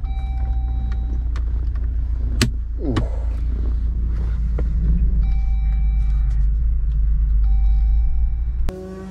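A 2020 Jeep Rubicon JL fitted with a Corla exhaust rumbles at a steady idle nearby, a deep, even engine drone with faint ticks and brief clicks over it, ending with a sudden shift in tone.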